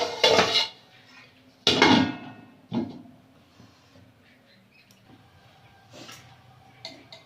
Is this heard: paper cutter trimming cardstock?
no